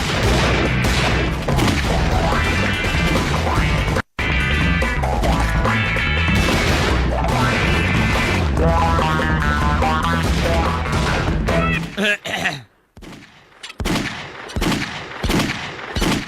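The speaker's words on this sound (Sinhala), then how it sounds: "කවුරු හරි වෙඩි තියෙනවා" Rapid bursts of loud game gunfire crackle over dense music and effects, then a few separate sharp shots ring out in a quieter stretch.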